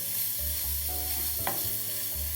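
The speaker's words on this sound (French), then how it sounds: "on ajoute maintenant les crevettes, on les laisse bien cuire quelques minutes, 5 minutes" Shrimp sizzling and being stirred in a pot for a shrimp bisque, with a steady close frying hiss, a few soft scraping stirs and one brief clatter partway through.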